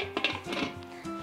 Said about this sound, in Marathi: आता झाकण लावते